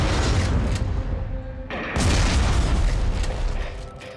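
Heavy booming explosions in the sci-fi horror shooter Dead Space 3, loud and dense, with a brief dip near the middle before another blast rolls on.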